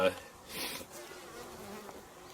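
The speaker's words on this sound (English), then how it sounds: "normally you don't stand this close to a beehive" Honey bees swarm around a beehive close by, a steady buzzing hum that holds throughout, with one louder swell near the start.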